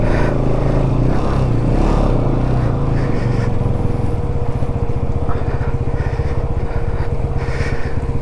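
A Bajaj Pulsar NS200 motorcycle engine labours steadily up close while riding off-road at night near Lachung in North Sikkim, a loud continuous drone with rough throttle changes and gravelly scraping underneath.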